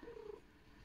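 A pet cat purrs faintly and close by indoors, with a soft, steady low rumble and a brief tonal murmur at the start.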